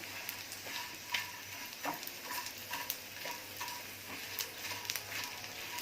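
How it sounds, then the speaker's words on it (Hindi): Gond, the edible gum, fries in hot oil, giving a steady soft sizzle with scattered light pops and ticks at a moderate, fairly quiet level and no voices. "ये देखिए, ऐसे बराबर फ्राई हो रही है।"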